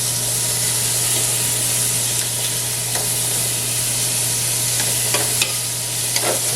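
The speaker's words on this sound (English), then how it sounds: "Saute this for about 5 to 10 minutes." Tomato, shallot, carrot, rosemary, celery and garlic sauté in a pan as pork is prepared, with a loud, constant frying hiss close by and light scraping from stirring near the end.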